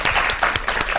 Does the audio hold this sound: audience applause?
yes